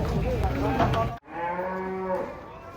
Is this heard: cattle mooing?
yes